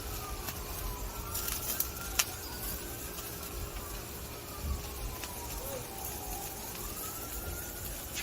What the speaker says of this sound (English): This is not sound effects. This is real sirens.